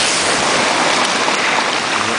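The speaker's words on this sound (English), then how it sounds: "Gonna get attacked by a wave." Sea waves break and wash onto the shore at Glengorm on the Isle of Mull, a loud, continuous broadband roar of surf with no pause, close by and unbroken through the whole stretch.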